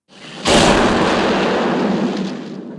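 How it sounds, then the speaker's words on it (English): A mortar shell explodes in the war film The Bridge on the River Kwai. A sudden heavy boom gives way to a long, roaring rumble that slowly fades over a few seconds. "then an explosion hits, a mortar hits, and he goes down"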